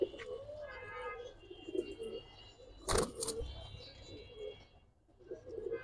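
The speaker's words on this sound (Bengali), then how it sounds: "পুরান জাতের জাবরা একটা পেয়ার ভাই," A pair of old-breed Jabra pigeons coos in soft, rolling phrases nearby, broken by a sharp knock or flutter near the middle, with faint background noise.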